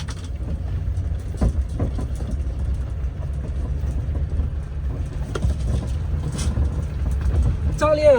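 A Bedford Rascal camper van, 2.5 metres tall, drives along with a continuous low rumble of engine and road noise, broken by occasional knocks and rattles.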